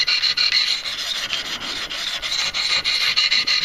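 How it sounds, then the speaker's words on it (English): A Benchmade 940 knife is drawn across 400-grit stones on a Wicked Edge sharpener, producing a continuous rapid rasping scrape with quick repeated strokes, close and alone. "So I'm starting out with only 400 grit."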